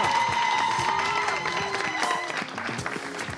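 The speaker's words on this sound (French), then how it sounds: "J'aimerais qu'on fasse un tonnerre d'applaudissements pour Patrick Tim." A studio audience on a French TV show breaks into a thunderous round of applause, many hands clapping steadily and close, with a few scattered cheers, tapering slightly toward the end.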